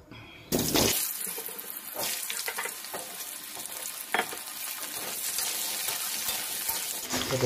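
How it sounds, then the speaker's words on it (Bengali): Potatoes frying in oil left over from frying fish, a steady bright hiss and crackle of the pan that runs on, with small pops and clatters near the start. "তো মাছ ভাজার তেলে এবার আলুগুলো ভেজে নেবো।"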